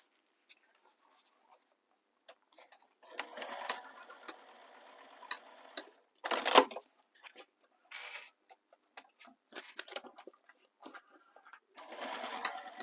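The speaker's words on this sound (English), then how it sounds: "I'm just restitching just where the corners are, just to ensure that they're nice and crisp and sewn really well" Sewing machine restitching the corners of a fabric handbag through thick layers of material, heard in short close bursts of rapid mechanical stitching separated by pauses and quiet fabric handling, with no speech.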